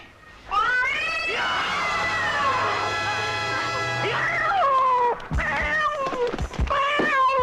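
A small cat meows loudly and repeatedly up close, with drawn-out wailing cries followed by several shorter, sharper meows, and no speech over it.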